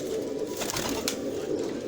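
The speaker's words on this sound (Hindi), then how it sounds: "ये सारे के सारे लाल आंखों के कबूतर हैं।" Red-eyed pigeons coo softly in a steady, faint stream of low murmuring calls with no talking.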